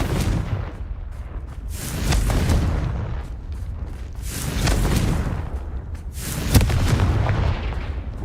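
Confringo fire spell explosions in Hogwarts Legacy burst out as a series of loud, rumbling booms, rising and falling in waves with a sharper blast near the end, and no talking over them.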